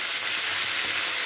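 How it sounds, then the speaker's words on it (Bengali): Pumpkin leaf paste fries in a pan with a continuous, close hiss and crackle, steady throughout the brief moment with no voices. "খুব ভালো করে এটাকে ভেজে নিতে হবে"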